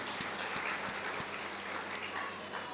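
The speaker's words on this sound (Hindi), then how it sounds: "वाह, तालियां होनी चाहिए डॉक्टर साहब के लिए।" Faint, distant applause from an audience, a continuous soft patter of clapping with a few distinct claps, low in level against background hum.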